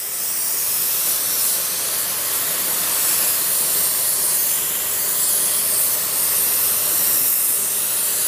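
A spray gun applies sealer to a car panel during a spot-painting repair, giving a steady, loud hiss of atomized spray that runs continuously without pause and with no talking.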